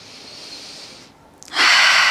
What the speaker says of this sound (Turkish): Önce burnundan derin bir nefes al